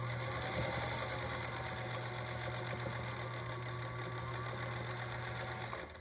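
A sewing machine stitches bias binding down along a quarter-inch line, running steadily and close with a constant motor hum and rapid needle clatter for nearly the whole stretch before stopping at the end.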